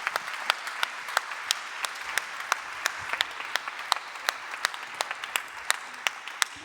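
A modest audience at a professional event applauds the leaders of themed tours, sparse distinct claps at a steady rhythm, fairly close and with no talk over them.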